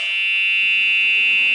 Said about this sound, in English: Okay, there's our buzzer.